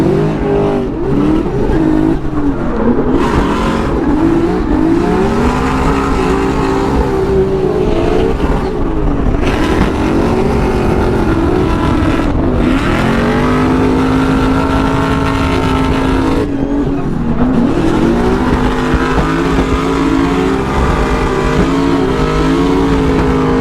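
A Formula Drift car in Utah revs hard and flicks into a drift, its engine screaming loud and close with repeated rises and dips in pitch as the throttle is worked across the run.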